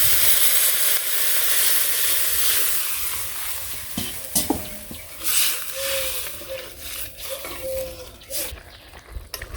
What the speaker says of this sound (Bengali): রাজা পর সবজিটা কষানো হয়ে গেছে, জল দিয়ে দিই।